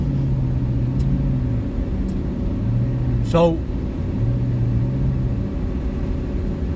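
Steady engine drone and road rumble from a car driving on slick, snowy, barely plowed roads during a storm, continuous and close, with someone talking over it.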